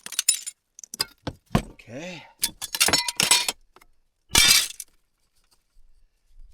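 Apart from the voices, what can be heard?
glass being smashed and breaking in a cabin cleanup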